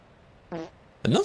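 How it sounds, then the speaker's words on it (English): A fart sound effect plays as a TikTok follow alert during a TruckersMP game moderation livestream: a short buzzy blurt, then a louder, longer rasping one right after, close and clear. "the fart sound is the follow on TikTok"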